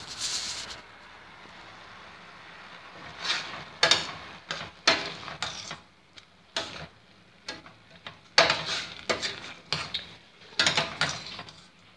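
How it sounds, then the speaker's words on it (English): A spoon scrapes and clicks against a pot of simmering buffalo sriracha stew in irregular close bursts, quiet bubbling underneath between strokes, with no talking. "So let's stir up a bit while it's simmering"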